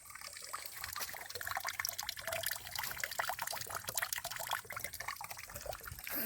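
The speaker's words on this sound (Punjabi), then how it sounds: "ਟਿਪ ਟਿਪ ਟਿਪ ਕਰਦਾ ਪਾਣੀ ਡੇਗਦਾ" Water drips and trickles steadily at an ancient temple site reached by a long stone stairway, a dense, continuous patter of drops and running water with no voices.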